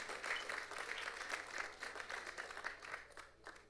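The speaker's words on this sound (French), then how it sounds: "un gros applaudissement pour marraine ça yo à la gloire de Dieu" A gathered congregation at a night church service claps in celebration for the godmothers, a fairly quiet, uneven patter of hands rising and falling throughout, heard from some distance with no clear voices on top.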